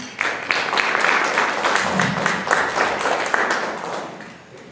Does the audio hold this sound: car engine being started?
no